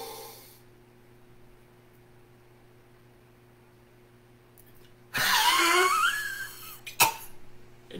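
After a quiet stretch with a low hum, a long, noisy breath rushes in, followed by a single sharp cough.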